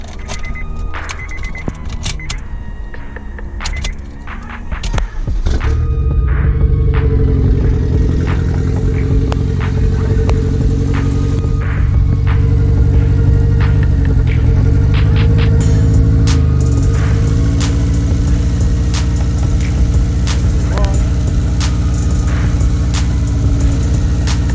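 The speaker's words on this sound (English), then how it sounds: "Let me start it. And you're gonna hear the Subi. There's a little misfire, but I'm pretty sure it's the coil." A Subaru engine with a slight misfire from a suspected bad coil cranks and catches after a few seconds of rattling, then settles into a loud, steady idle with an uneven, faintly stumbling undertone, heard close up with no talk.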